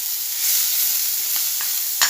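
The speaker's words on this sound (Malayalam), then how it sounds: "ഇനി നമ്മൾ ചതച്ച് വെച്ച ഉള്ളി മുളകും ഒന്ന് ഇതിലിടും." Crushed onion and chilli drop into a hot pan of frying shrimp, producing a steady close sizzle with faint stirring scrapes and no talking.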